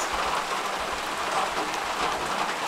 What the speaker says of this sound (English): It's pretty nice to sit here in the rain.